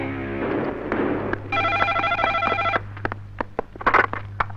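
A telephone rings in bursts while an outgoing call is placed to a police station, the electronic ringing tones repeating over a low steady hum, followed by sharp clicks.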